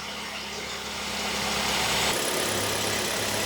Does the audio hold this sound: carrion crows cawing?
no